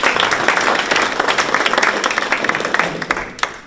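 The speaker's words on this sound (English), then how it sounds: "Round of applause" An audience at a morning forum breaks into loud, close applause of many hands. The clapping thins into scattered individual claps before it stops.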